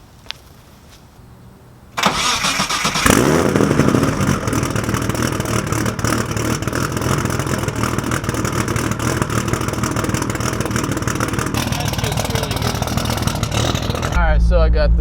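Nissan fitted with a swapped 2JZ engine starts after a quiet moment and settles into a loud, steady run up close. The engine holds a rough, sustained roar with slight rises in pitch, then cuts off near the end.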